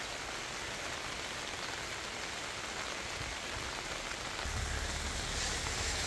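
Steady rain falls over a countryside farm, a dense even hiss of drops on the ground and leaves that fills the scene and grows slightly heavier toward the end.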